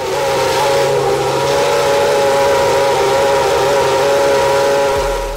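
Older Formula 1 race car engine held at a steady high-pitched scream, loud and continuous with a strong sustained tone and no talk over it.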